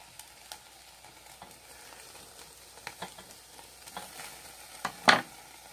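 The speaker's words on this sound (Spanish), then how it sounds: "Y así cocinamos carne a la japonesa" Meat sizzles on a Japanese barbecue grill with a faint, low crackle. Scattered pops and a few sharper spits build toward the end, with one loud crack near the close.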